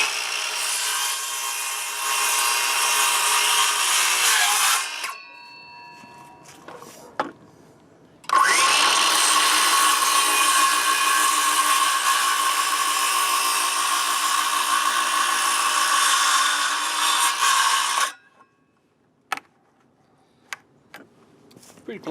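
A Dewalt circular saw cuts through boards in two long, loud, steady passes, a whining buzz that stops briefly between cuts, followed by a few sharp knocks and handling clatter.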